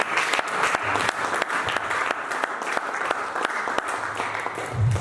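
A church congregation claps to acclaim Jesus, a dense, steady round of applause from many hands that carries on throughout, with a voice faintly audible beneath it.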